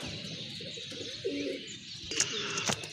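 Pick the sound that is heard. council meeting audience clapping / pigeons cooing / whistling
pigeons cooing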